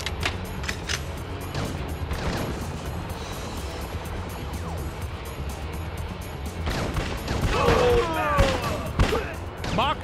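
Gunfire and crashing impacts from the Miami police shooter game Bad Boys Miami Takedown, dense and continuous across the clip, louder bursts near the end, set over steady game music and effects.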